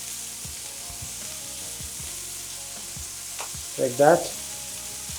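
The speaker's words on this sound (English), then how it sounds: "So you see the charring is happening, but also some of it is being stuck on the pan." Sweet corn sizzles and chars in a pan with cooking oil for a pork and sweet corn dish, a steady close frying hiss throughout, with a brief clatter and a few spoken words near the end.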